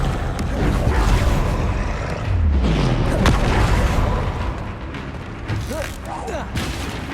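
Repeated Confringo blasting spells going off during a fight in the Hogwarts Legacy video game, with deep booming fiery bursts rolling one after another over a dense, loud battle soundscape.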